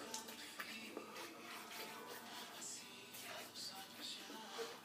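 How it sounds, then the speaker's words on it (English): Water from a bathroom sink tap runs over a straight razor blade being rinsed, a soft continuous splashing hiss with faint uneven spatters, quiet and close, with no speech. "I always rinse my blade off under the sink and wet my cheeks with my basin."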